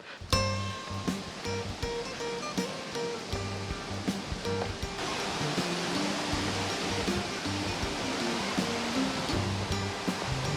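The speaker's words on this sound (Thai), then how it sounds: "น้ำตกที่ปุยละอองผ่านซ่องหินลงมาเป็นสีขาวนวล" Saeng Chan waterfall in Ubon Ratchathani, with water pouring down through a gap in the rock in the rainy season, gives a steady, dense rushing roar that swells slightly partway through and holds without pause.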